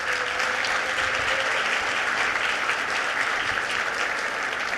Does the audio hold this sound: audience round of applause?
yes